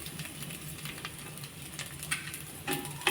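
Horse gram and grated coconut fry softly on a low flame for kollu thuvaiyal, a quiet steady sizzle with a few light stirring scrapes near the end.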